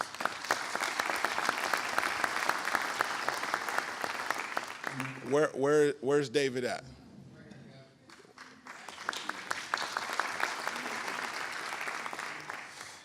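A crowd applauds steadily for several seconds, pauses briefly while someone speaks a short question, then the clapping swells again and continues.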